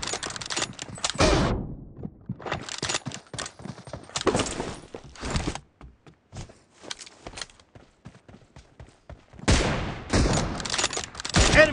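Gunfire in the mobile battle game BGMI (PUBG) comes as loud bursts and rapid volleys. Shots arrive in clusters separated by quieter gaps, with a heavy barrage at the start and another at the end.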